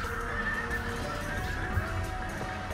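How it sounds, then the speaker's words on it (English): Horses neigh and whinny through a cavalry battle in a strategy video game, with steady clip-clop of hooves and a dense clash of battle noise underneath. "the sending in the Bactrian horse archers almost wins in this cavalry battle over here"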